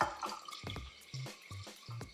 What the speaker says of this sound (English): just slowly add the water